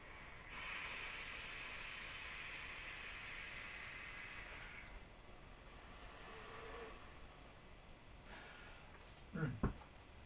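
A long, soft, breathy hiss comes as vape clouds are exhaled from an e-cigarette with a new wick, quiet and close for several seconds before fading, followed by a faint click near the end.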